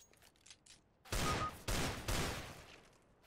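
Desert Eagle pistol gunshots in Counter-Strike: Global Offensive, three loud, sharp, close blasts in quick succession, each with a short decaying tail, following faint game sounds.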